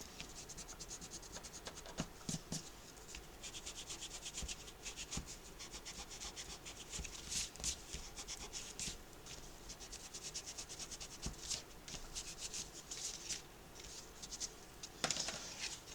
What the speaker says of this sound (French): Je vais aller gommer doucement tous mes traits de crayon.